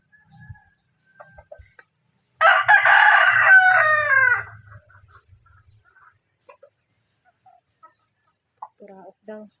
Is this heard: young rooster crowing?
yes